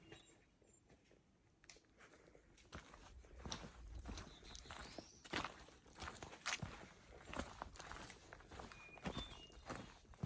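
Footsteps crunch along a trail on the Appalachian Trail at a steady walking pace, moderately close, with faint bird chirps in the background.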